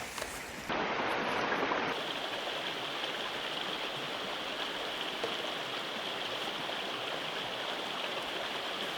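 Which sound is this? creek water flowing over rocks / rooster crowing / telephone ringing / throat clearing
creek water flowing over rocks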